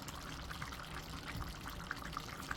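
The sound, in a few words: pouring liquid into turkey vegetable curry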